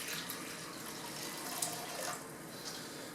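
Distilled water and apple cider vinegar poured into a container for a bear roast soak, a steady close splashing stream running throughout with no talk.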